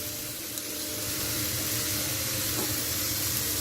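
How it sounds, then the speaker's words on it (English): Beef mince and onions sizzle steadily in a frying pan, a constant close hiss of frying with no voices over it. "done the onions, and I am about to stick the mince in"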